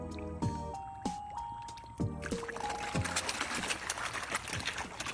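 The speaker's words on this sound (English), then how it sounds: "You guys like the sound of koi splashing in the water?" Water drips and small splashes close by from koi fish splashing, irregular and soft, with a trickling, wet texture and some faint background noise.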